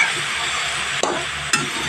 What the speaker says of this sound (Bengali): তার মাঝখানে আমি টমেটোগুলো দিয়ে দিলাম, দিয়ে ভালোভাবে কষিয়ে নিতে হবে টমেটোর সাথে